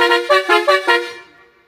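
A modified vehicle's TT pressure horn blasts in four quick overlapping musical honks, loud and close, with the last note ringing out and fading away.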